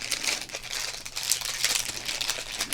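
A plastic-wrapped baseball card rack pack being unwrapped, giving close, crisp crinkling and crackling bursts that continue without pause.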